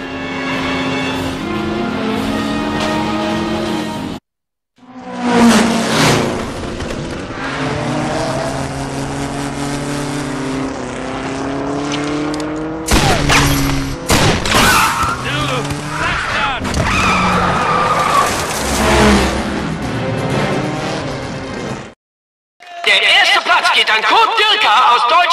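Engine of a Morini Aurora race car screaming past in the Saboteur video game, with tyre skids and rising and falling engine notes over a busy racing mix; speech and music come and go, with two brief drops to silence.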